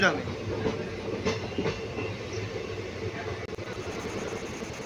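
The Kabiguru Express 13027 rolls along the tracks near Takipur, a steady rumbling rattle heard from inside the carriage with faint rhythmic clacks.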